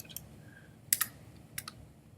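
A computer keyboard clicks in sparse, quiet keystrokes, a few isolated taps followed by a tight pair of sharper strikes and another short cluster, over faint room hum.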